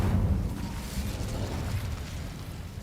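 An Incendio fire spell is cast in Hogwarts Legacy, a soft whooshing burst of flame with a low rumble that slowly fades, no talking over it.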